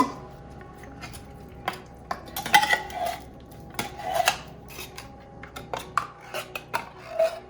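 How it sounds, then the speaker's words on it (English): A utensil mixes ingredients with beaten egg in a bowl, producing irregular clinks, taps and scraping rubs against the bowl, close and moderately quiet, with no speech. "first you just want to mix all the ingredients. I like to just mix it all in a bowl"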